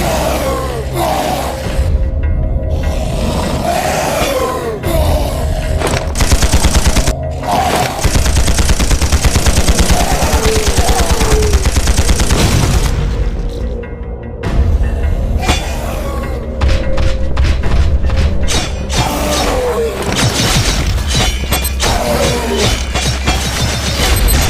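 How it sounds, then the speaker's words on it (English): Ballistic weapon fire in the mobile sci-fi action game Implosion, sustained rapid bursts of gunfire with booming impacts layered over loud game music and effects for most of the stretch, with a brief lull midway. "Ballistics protocol activated. Select panel for firing range."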